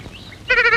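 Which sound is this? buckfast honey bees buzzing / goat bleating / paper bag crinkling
goat bleating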